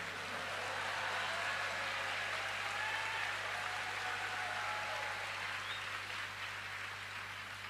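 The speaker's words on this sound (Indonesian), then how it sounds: "sekali lagi tepuk tangan yang meriah buat Bapak Presiden kita yang terhormat Bapak Haji Joko Widodo" An audience at President Joko Widodo's meeting with the Indonesian community in Sydney claps continuously for several seconds, a steady, moderately distant wash of applause with a low hum underneath.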